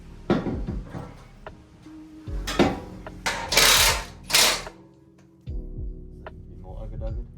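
Impact wrench tightening bolts on a new off-road suspension: a few loud, short rattling bursts stand out among clanks and metallic knocks from the work, close by in a garage.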